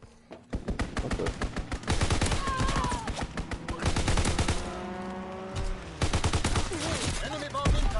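Machine gun fire from a strafing run in a WWII video game hammers in rapid, loud bursts, joined by explosions and other gunfire, while a player talks over the battle.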